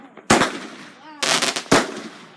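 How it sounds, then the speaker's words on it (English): Backyard fireworks go off in a few loud, sharp bursts of crackling explosions separated by short pauses. Voices can be heard faintly between the blasts. "Fireworks."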